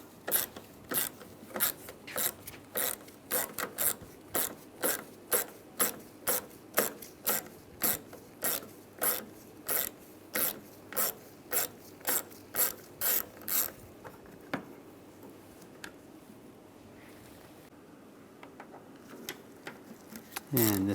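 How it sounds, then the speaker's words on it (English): A ratchet with a 7mm socket loosening the wiper transmission bolts on a 2007-2013 Chevy Silverado, a long run of crisp, evenly spaced clicks that stop partway through, followed by quieter handling noises. "We're going to remove these bolts on both sides. Use a 7mm socket."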